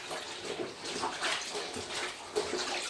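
A zentai suit is sloshed and swished through soapy wash water, making continuous splashing and swirling with small surges, close by and with no talking.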